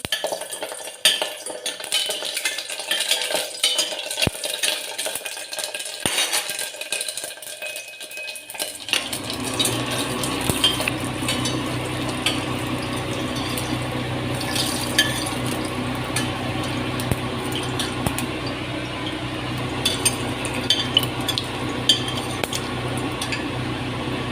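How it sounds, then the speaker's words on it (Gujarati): Chillies hit hot oil in a pan for a vegetable tempering, starting after several seconds of near quiet and turning into a steady, close, broad sizzle with occasional utensil clinks that continues to the end. "તો પહેલાં આપણે મરચાંને ફ્રાય કરી નાખશું"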